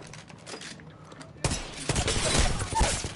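Gunfire from a weapon in a video game battle: a quieter patch, then a dense burst of rapid shots, loud and close, with a voice briefly underneath.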